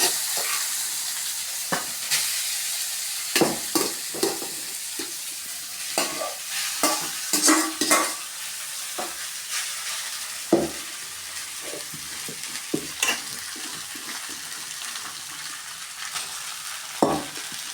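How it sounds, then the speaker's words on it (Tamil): Leftover rice is stirred and fried in a kadai with curry leaves, a soft sizzle running throughout with repeated scraping and clacking strokes of a spatula against the pan at an uneven pace, close by. "அந்த கடாயில் கருவேப்பிலை போட்டுட்டு இந்த சாப்பாடு இருக்கு இல்லையா, அதை ஃபுல்லாத்தையுமே போட்டுடலாம்"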